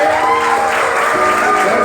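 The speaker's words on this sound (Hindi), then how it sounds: "तालियां नहीं रुकनी चाहिए, जोर से" Loud, dense applause from an audience at a felicitation ceremony for NEET toppers in Srinagar, filling the whole short stretch at constant strength with faint tonal sound underneath.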